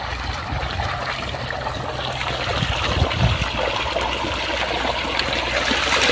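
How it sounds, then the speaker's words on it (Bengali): Water from an underground bore rises and spills out on its own with no motor, a steady broad wash of flowing, trickling water that stays close and continuous throughout. "এখানে যতগুলি বোর্ডিং রয়েছে সবগুলি শুধু পানি উঠতে থাকে"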